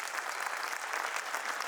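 Applause from an audience, dense, steady clapping with no break, heard on its own.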